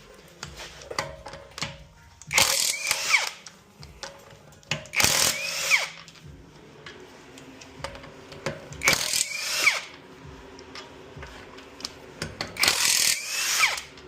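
Power tool loosening 17 mm lug nuts on the wheel of a 2010 Audi A4 during a rear brake job, heard as four loud bursts roughly every two to three seconds with quieter workshop clatter between.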